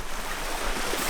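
Mediterranean waves washing over a pebble shoreline in Tunisia, a dense steady hiss of surf and rolling stones, close and moderately loud with no voices.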